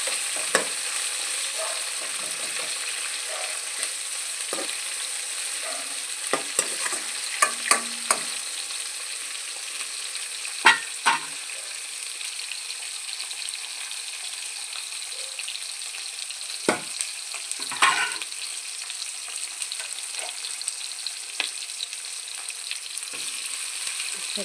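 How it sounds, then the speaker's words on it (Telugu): Onions and curry leaves frying in oil, a steady broadband sizzle held for the whole stretch with occasional sharp pops and spatters, close and alone with no talk. "ఆనియన్స్, కరివేపాకు వేసాము. మంచిగా ఫ్రై కావాలి."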